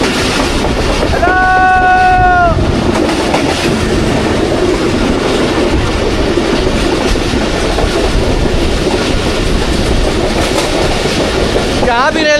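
Passenger train of the Pakistan Express on a rainy early morning, running through a railway station: steady loud rumble and clatter of wheels throughout, a brief horn-like tonal note early on and a squeal near the end.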